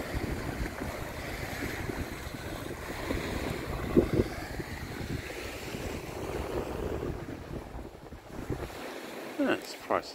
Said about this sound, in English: The wind is nice and chilled.